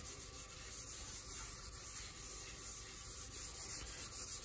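A cloth rubs continuously across a paulownia guitar body, wiping away drips of stain in a close, soft, steady scrubbing texture with no talk.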